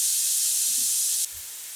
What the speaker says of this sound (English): our bacon is sizzling away there